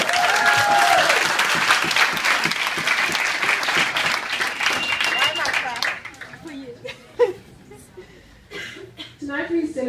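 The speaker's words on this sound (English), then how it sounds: "So give them a round of applause." An audience at a book launch event applauds warmly, dense clapping with a few cheers for the first six seconds, then fading to scattered claps as voices and laughter come through.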